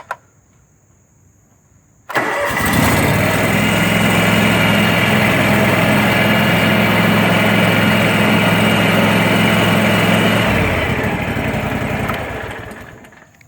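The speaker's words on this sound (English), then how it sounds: "That was wide open throttle." A John Deere X-485 garden tractor engine roars at wide open throttle, running loud and steady for about eight seconds after a sudden start, then winding down and fading at the end.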